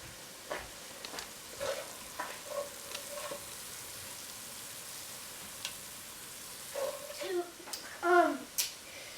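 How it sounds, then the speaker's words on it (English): A spoon stirs lentil soup with garlic in a pot, giving soft, intermittent scraping and a light sizzle, faint and close, broken by voices talking between strokes. "you're gonna want to stir it for 1 more minute"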